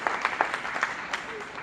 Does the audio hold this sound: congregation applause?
yes